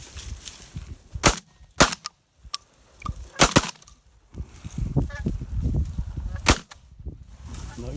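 Shotgun blasts during an outdoor goose hunt, several sharp loud reports in quick clusters, with geese honking in between and after.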